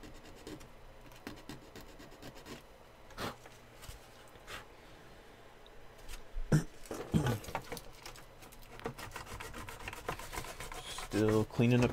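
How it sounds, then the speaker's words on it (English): Dry scratchy rasping of sandpaper worked back and forth over the seams of a scale model with epoxied parts, with irregular strokes, some taps, and louder handling noise toward the end. "Just sanding up these seams, got these parts epoxied on."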